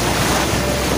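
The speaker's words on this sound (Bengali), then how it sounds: "আজ সমুদ্রের প্রচন্ড ঢেউ।" Strong sea waves at Mandarmoni beach make a steady, dense roar, blended with wind buffeting, and no voices are heard.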